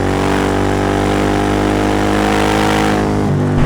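A 2003 Suzuki SV 1000 S motorcycle engine held high in the revs, a loud, close, steady droning roar with strong harmonic whine that dips slightly near the end, no talking.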